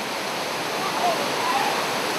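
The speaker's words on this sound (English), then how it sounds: "Now here is the mighty Pulapanzak waterfall." The Pulapanzak waterfall in Honduras roars as a continuous, even rush of falling water, loud and close without a break.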